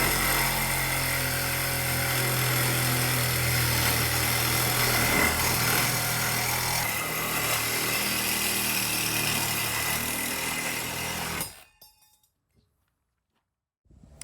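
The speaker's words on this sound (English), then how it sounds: "the only thing you need to cut it is a Sawzall, and just cuts like butter as long as you got a sharp blade" A Sawzall reciprocating saw cuts through roof rack material on a third-generation Toyota Tacoma with a loud, continuous buzzing rasp. It runs steadily for about eleven seconds, then cuts off sharply into silence.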